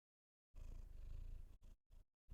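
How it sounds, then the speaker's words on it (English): A cat purrs right up against a microphone, a loud, close, rumbling purr lasting about a second before breaking into a few short bursts, with no talk. "Do you want to purr into the mic?"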